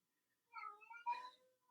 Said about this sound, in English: I apologize if you can hear my crying cat.